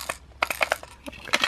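Metal keys jingle and clink in a series of short, bright rattling bursts with brief pauses between them, close to the listener and with no voices.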